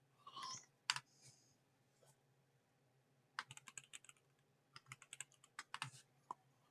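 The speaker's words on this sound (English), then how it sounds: "I feel like I'm typing it all caps today a lot." Keystrokes on a computer keyboard, typed in short irregular bursts with pauses between them, close and fairly quiet, some keys struck harder than others.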